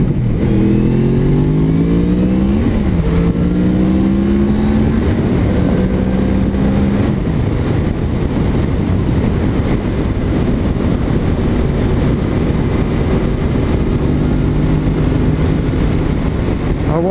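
Yamaha MT-10 motorcycle being ridden: a loud engine climbing through rising revs and gear shifts in the first seconds, then settling into a steady drone under heavy wind roar, close and continuous.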